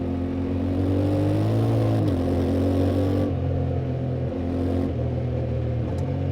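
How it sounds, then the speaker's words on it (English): Yamaha Tenere 700 (2025) motorcycle ridden off-road with quick shifter, a loud steady engine drone near the microphone, its pitch stepping between gears in clean shifts and rising again after each change. "So let's do a little more quick shifter off-road."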